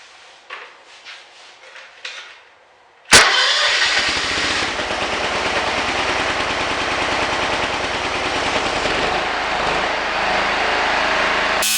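A small engine on a workbench, primed through the carburetor with choke on, catches abruptly after a few quiet clicks and then runs steadily and loudly at a fast idle.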